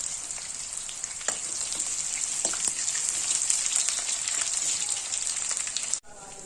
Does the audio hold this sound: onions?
yes